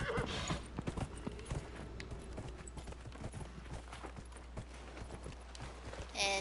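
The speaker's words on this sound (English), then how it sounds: "I can call the horse!" A horse in the video game Dragon Age Inquisition, its hooves clopping in a steady run over ambient game sound, fairly close and continuous, with a brief whinny near the end.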